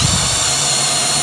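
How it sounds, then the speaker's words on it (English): A power drill bores pilot holes into 2x4 lumber for screws while an Adirondack chair is being assembled, giving a loud, steady, unbroken whir close to the microphone. "we're gonna pre-drill this just like we did the front brace"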